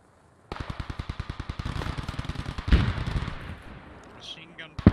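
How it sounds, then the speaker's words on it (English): Steady, evenly spaced machine gun fire in the WWII shooter Post Scriptum, a long burst of rhythmic thumping shots at mid distance, followed by a couple of heavier reports and faint background battle noise. "Machine gun fire to the northwest, like 300."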